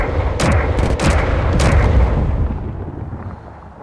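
Several sharp gunshot bursts ring out loud and close in the Space Engineers video game, clustered in the first two seconds, with boomy rumble trailing off afterward.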